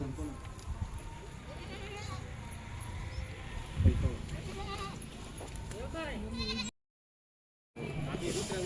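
Two pregnant goats bleat in a few wavering calls, heard under ongoing talk from people nearby in an outdoor setting.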